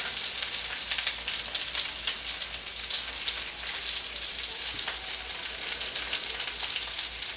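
A thin chicken cutlet fries in a pan with a continuous, close crackling sizzle that holds steady throughout, with tiny popping spatters and no voices.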